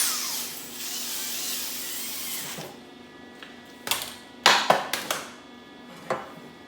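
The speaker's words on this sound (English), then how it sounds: "I'm just gonna do it like that, kind of spot weld it all around." Short bursts of spot welding on a car exhaust while fitting a wideband sensor bung, first a long steady hiss then several sharp crackling zaps spaced irregularly, close by.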